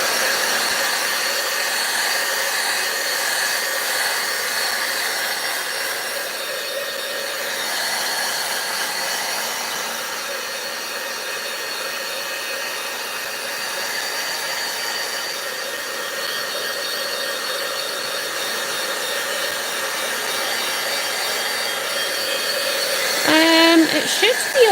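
A heat tool blows steadily and loudly to dry handmade craft work, a continuous broad whooshing roar that holds unbroken for the whole stretch, with a faint voice and a brief clatter near the end.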